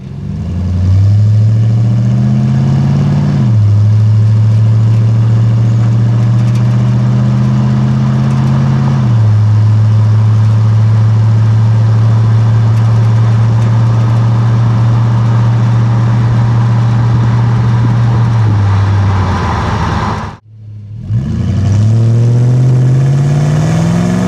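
A truck fitted with Magnaflow 4x9 oval mufflers drives under load, its exhaust droning loud and steady with rising revs and gear shifts, then a brief drop near the end before pulling again.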